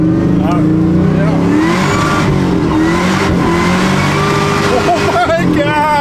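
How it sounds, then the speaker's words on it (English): A supercharged LS3 race truck engine revs hard on a dyno and repeatedly hits its limiter, bouncing rapidly, with excited voices shouting over it. "we're just banging on rev limiter"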